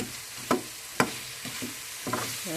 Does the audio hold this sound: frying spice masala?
yes